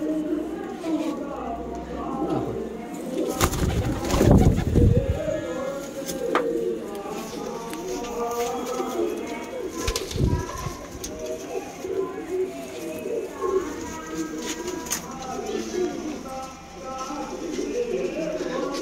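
Malwai pigeons kept together at home coo repeatedly, a soft, throaty burbling that runs steadily underneath someone talking, with a couple of louder bursts of movement or wing flutter.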